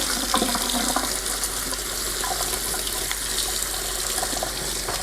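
Water runs steadily from a tap while a plastic RV part is rinsed, a continuous close splashing hiss with faint knocks of handling and no voices.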